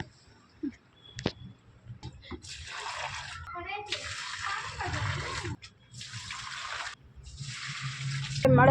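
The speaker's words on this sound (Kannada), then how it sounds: "ಹಾಗೆ ಗಿಡಕ್ಕೆ ನೀರು ಹಾಕ್ತೀನಿ." Water splashes in several long, even bursts of about a second each as plants are watered, broken by short pauses, with a person talking quietly in between during a rainy day.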